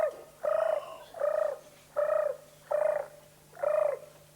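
A man imitates the song of a European turtle dove with his voice, five evenly spaced, low purring coos in a slow steady rhythm, close and alone.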